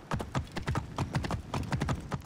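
Horse hooves clip-clop in a quick, steady rhythm of close, crisp strikes as a horse travels over ground in the Assassin's Creed Origins video game.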